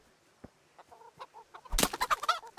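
Chickens in the video game Kingdom Come: Deliverance cluck in short scattered bursts, quiet at first, then a louder flurry of rapid clucks and a flapping rush near the end.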